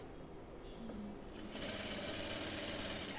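A sewing machine stitches a fully lined blouse, running steadily and close with its motor hum rising and growing busier partway through.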